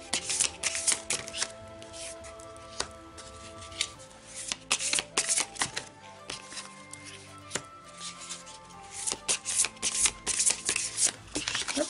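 Tarot cards shuffled by hand before laying out a cross spread, a dense run of crisp riffling and flicking bursts close up, pausing briefly between shuffles.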